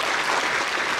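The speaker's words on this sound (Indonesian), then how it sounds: "Tepuk tangan untuk Denpasar." Brief burst of full, dense crowd applause at an official opening ceremony in Denpasar, Bali, loud and sustained across the whole moment.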